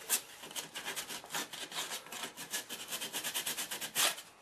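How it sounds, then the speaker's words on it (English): Sandpaper is worked by hand over filler on a damaged MDF baseboard. The strokes are short, quick and rhythmic, a quiet, close scratchy rasp. "So we're just going to sand it out now."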